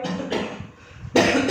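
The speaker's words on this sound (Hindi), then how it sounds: "खांसी नहीं रुक रही मेरी, कंट्रोल ही नहीं हो रही" Someone coughs repeatedly in the harsh smoke of spices being tempered in hot oil: a strong cough, a short quieter gap, then another loud burst of coughing.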